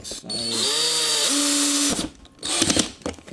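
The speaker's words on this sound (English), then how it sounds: "the drill is on low torque" A power drill set on low torque whirs up driving screws while fitting fog lights to a Suzuki Grand Vitara, holding a steady pitch for nearly two seconds, stops, then gives a short second burst.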